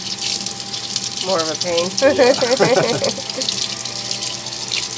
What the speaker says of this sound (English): we're just gonna rinse this stuff off